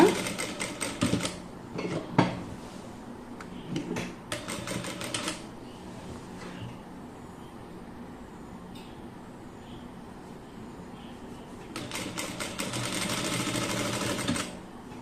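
A sewing machine stitches a folded fabric edge in three separate bursts of rapid clattering, each a second or more long, separated by quiet pauses.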